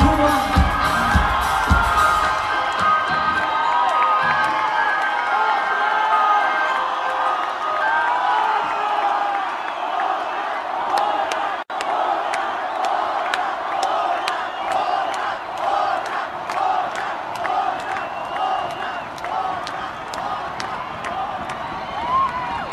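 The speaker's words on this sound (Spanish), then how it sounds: "aplauso fuerte, fuerte, fuerte" A concert crowd at a show in Querétaro cheers, whoops and claps continuously, a loud, sustained roar with shouted voices throughout and dense clapping building over the whole stretch.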